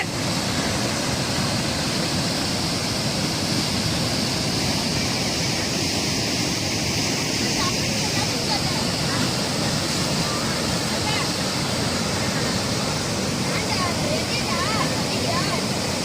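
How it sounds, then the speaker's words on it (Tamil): Heavy-rain floodwater rushes down a stream in Salem, a loud, steady, broadband roar like a waterfall that runs without a break for the whole stretch. "ஓடையில் இவ்வளோ தண்ணி போகுது"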